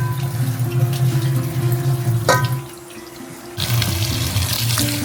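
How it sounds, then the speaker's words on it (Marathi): A kitchen tap runs as leafy greens are rinsed under it for a village-style vegetable dish, a close steady splashing that breaks off briefly midway with a clink, then the water flow resumes. "भाजी म्हटली की पहिले स्वच्छ धुवून घ्यायची"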